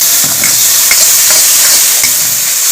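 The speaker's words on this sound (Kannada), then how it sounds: "ಸಾಸಿವೆ ಒಗ್ಗರಣೆ ಬರ ಪಾಡ್ದು ಬೆಳ್ಳುಳ್ಳಿ ಒಗ್ಗರಣೆ ಬರ ಪಾಡೊಂದು ಇಟ್ಟು" A mustard seed and garlic tempering sizzles loudly in a pan, a dense unbroken crackle and hiss with faint stirring taps, close up and without talk.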